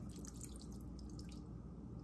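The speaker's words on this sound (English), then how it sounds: "And add a little bit of water to this" Water pours and trickles into a baking dish of stuffed shells in marinara sauce, a faint, steady splashing with small drips, close and without talk.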